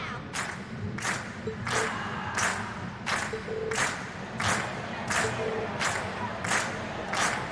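A crowd cheers at a concert in Trails of Cold Steel, a loud roar of voices pulsing with rhythmic bursts of clapping and chanting, steady and close throughout.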